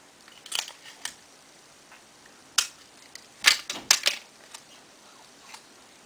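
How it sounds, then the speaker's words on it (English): A strip of tape pulled and torn during a makeup session, heard as a few crisp, close ripping and snapping bursts clustered together, with quiet room tone between them. "I need to get a piece of tape."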